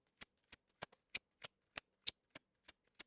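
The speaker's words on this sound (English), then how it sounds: "Let me shuffle these a little more." Tarot cards shuffled by hand, about a dozen crisp, close snaps in a steady, slightly uneven rhythm with quiet gaps between them.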